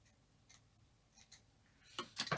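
Scissors snipping yarn during crochet work on Santa party slippers: faint, quiet room tone, then a couple of sharp close snips near the end.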